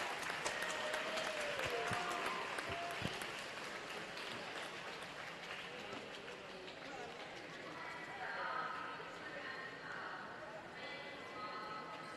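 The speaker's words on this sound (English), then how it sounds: "So a big round of applause for Mark Evans." Audience applause fills the pool hall at a winter swimming gala, a steady burst of clapping that gradually thins out as an announcer speaks over it.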